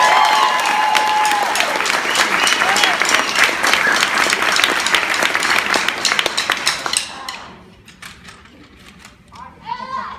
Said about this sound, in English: You can give her one more round of applause,